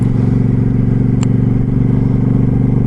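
A motorcycle ridden gently on freshly fitted tires, its engine droning steadily and close with a smooth, even throb and wind rush, no voices.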